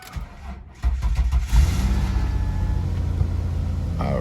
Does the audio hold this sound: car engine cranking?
yes